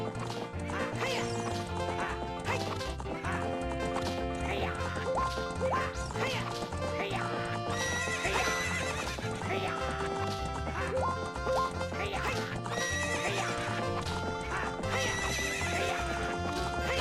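A horse in a Zelda video game neighs and gallops, producing a rapid clip-clop of hooves and whinnies heard through busy, constant game music that keeps the mix loud and full.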